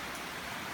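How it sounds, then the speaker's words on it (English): Heavy rain pours down steadily during flooding, a dense, even hiss of water on surfaces with no pauses, fairly faint and distant-sounding throughout. "it's raining really hard here."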